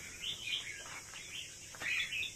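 Small young pet birds, still moulting, chirping in their cage: a few quick high tweets in two short bursts over a faint hiss.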